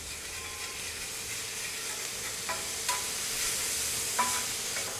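Butter melting on a hibachi flat top grill gives a fairly quiet, steady sizzling hiss, broken by a few light scrapes and clicks from a spatula mixing it around.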